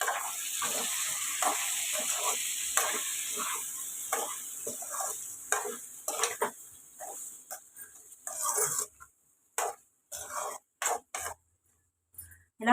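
Chilli powder being stirred into a drumstick and tomato curry in a pan, soft sizzling under repeated scraping strokes of a spoon that thin out into separate scrapes and taps near the end, with no talk.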